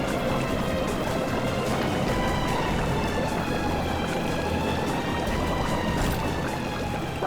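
Water rushing and pouring into a leaking boat in a TV drama scene, a loud, steady gushing wash that fills the whole stretch, close and continuous.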